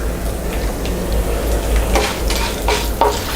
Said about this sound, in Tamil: இந்த மூணையுமே சிம்மில் வச்சுட்டு நம்ம நல்லா செவக்க வறுத்துக்கலாம்.